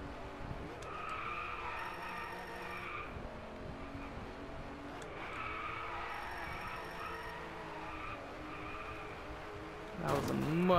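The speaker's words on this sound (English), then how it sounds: "That was a much smoother drift." A car drifting with long tire squeals in the racing game Driveclub VR, repeated sliding screeches under a steady engine drone, moderately loud, ending in a sharper burst.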